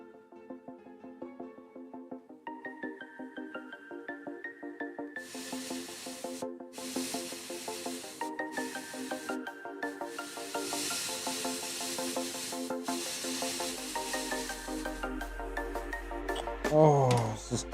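Airbrush spraying paint onto a miniature figure: bursts of airy hiss that start and stop in several passes, heard under background music.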